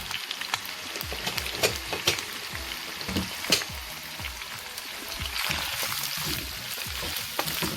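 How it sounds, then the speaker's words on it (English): Smoked turkey fries in canola oil for a vegetable sauce, giving a steady, close crackling sizzle with scattered popping spatters and occasional stirring. "We're adding the turkey so it can saute a little bit or fry a little bit."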